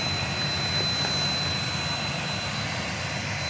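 A 20-year-old Southwest Boeing 737-700 jet on the runway at Dallas Love Field gives a steady, continuous engine roar with a faint high whine on top, heard alone at moderate loudness.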